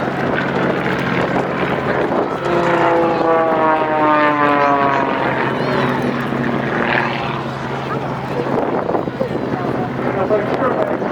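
Propeller aircraft flying a formation loop at an airshow in the Barossa, a steady loud engine drone with rising and falling propeller tones, wind buffeting throughout.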